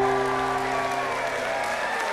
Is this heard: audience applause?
yes